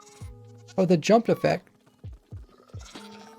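A goat in the Minecraft video game bleats in a few short, low calls spaced through the moment, while a person talks over the middle stretch.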